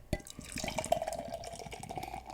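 Beer from Cellarmaker, Alvarado Street or Other Half Brewery pours into a glass with a quiet, gurgling splash and trickle that runs steadily. The sound is close and soft.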